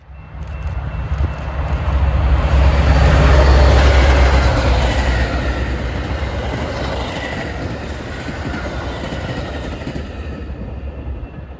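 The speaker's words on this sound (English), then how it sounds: "BNSF Train 2003, running with a legacy F40 and a rebuilt F40 PHM" Metra BNSF Train 2003, a commuter doubleheader led by a legacy F40 and a rebuilt F40PHM diesel locomotive, roars past close by with deep engine rumble, then a long steady rush and clatter of passenger cars fading slowly.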